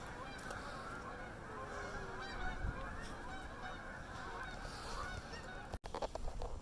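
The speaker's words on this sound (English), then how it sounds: "Can't say that I've seen that many geese at one time in my life before." A large flock of geese honks continuously in the open near a tiny tipi campsite, a dense chorus of overlapping calls at moderate distance with a brief handling bump near the end.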